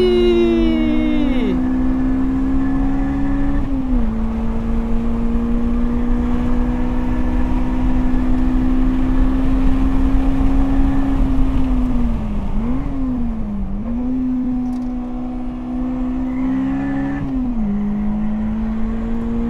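A Lotus Elise sports car lapping a track holds a loud, sustained engine drone from inside the cabin, with a few dips and rises in pitch as it lifts and accelerates through corners.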